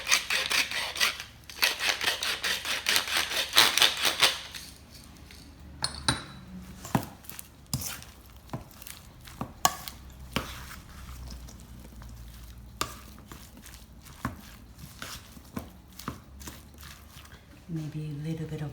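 Potato salad with a Japanese twist stirred in a bowl: scraping, tapping utensil strokes in an irregular rhythm, close and moderately loud, with a person talking over parts of it.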